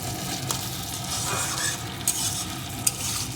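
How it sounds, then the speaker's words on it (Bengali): Khichdi base frying in a pan with turmeric powder, a strong even sizzle with the steady scrape of stirring and a couple of sharp metal clinks, heard close and with no one talking. "দিয়ে দেবো পরিমাণ মতো হলুদ গুঁড়ো আবারও কিছুক্ষণ ভেজে নেবো"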